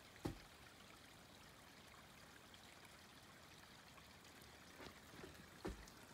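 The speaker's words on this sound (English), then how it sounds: "Listen to the creek." A faint, steady trickle of flowing creek water beside a house in Gatlinburg, Tennessee, quiet and continuous, with a few soft knocks.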